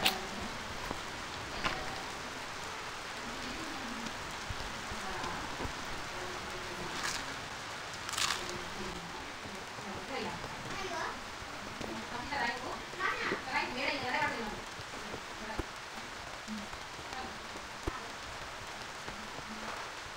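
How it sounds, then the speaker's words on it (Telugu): Rain falling in the survival video game Survival & Craft: a steady, soft hiss of rainfall runs throughout, with faint voices and game sounds rising and falling underneath. "వర్షం పడుతుంది"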